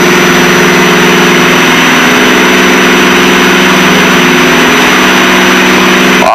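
Steady, loud drone of a Piper Seneca's engines running in flight, a constant hum with a slight pulsing beat that holds throughout and cuts off abruptly at the end.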